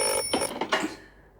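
A telephone rings indoors in a few quick bell-like pulses that fade into a short ringing decay, heard alone with no talk.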